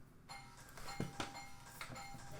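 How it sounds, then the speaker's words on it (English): A doorbell chimes inside a home, a few bright ringing tones with short decays, moderately close, set against faint room noise with no talking. "someone's ringing our doorbell."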